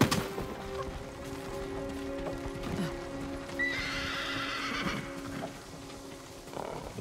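Horses whinny loudly while hooves clip-clop in a steady rhythm, with a shrill neigh rising midway over the galloping, in the video game Ghost of Tsushima Director's Cut.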